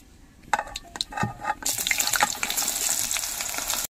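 Sliced ridge gourd drops into hot oil in a wok, with a few clinks and scrapes before a loud, steady sizzle of frying takes over and holds close for the rest of the moment.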